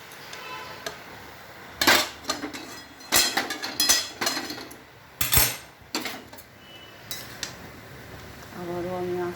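Fried vegetables are tipped one batch after another into a cooking pot, making a run of metallic clanks and scrapes of utensil on pot, loud and close, in irregular clusters with pauses, and no talk.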